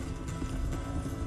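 Horse hooves clip-clop steadily at a ride in Red Dead Redemption 2, a continuous rhythmic patter close up with low rumbling game ambience beneath and no talking.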